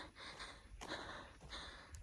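Someone breathes heavily after walking uphill in cold hill country, with a few loud, close, rasping breaths and snorting gasps at an uneven pace.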